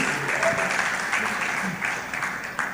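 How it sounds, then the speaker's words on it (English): Warm, continuous applause at a safety forum as a closing speaker is welcomed, fairly loud and dense, with faint voices or murmurs mixed underneath. "Please a round of applause for her."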